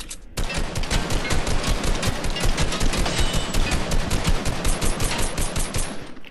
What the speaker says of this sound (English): I got 700 bullets and burning them